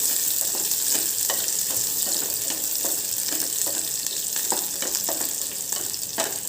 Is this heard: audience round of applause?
no